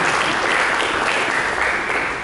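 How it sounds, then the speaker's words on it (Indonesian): Congregation at a Christian church service clapping for Jesus, a dense, steady wash of hand claps filling the whole stretch at close, loud level with no break. "Berikan tepuk tangan bagi Yesus."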